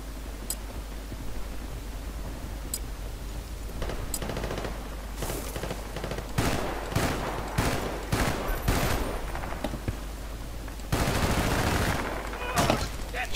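Bursts of automatic gunfire in a Battlefield: Bad Company 2 multiplayer match, scattered volleys growing louder and denser toward the end, with a few sharp single shots between them.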